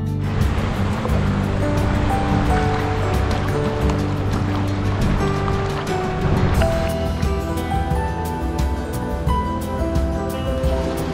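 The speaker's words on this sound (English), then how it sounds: "the water coming over the dam and everything" Water pouring over a dam at the Roaring River State Park fish hatchery in Missouri, a constant broadband rush heard near and steady for the whole stretch, with no talking.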